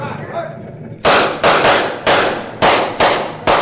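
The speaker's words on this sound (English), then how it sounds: "They shot the wagon, Holmes, but not the driver." Gunfire aimed at a wagon in a 1949 Sherlock Holmes radio drama: a rapid volley of six or seven loud, sharp shots, with shouting voices underneath at the start.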